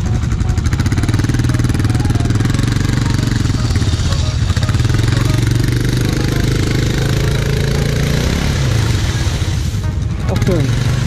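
Highlifter 800R XXC quad ATV engine running loud and close at an off-road meet on muddy trails, a steady throbbing drone with rev changes near the end.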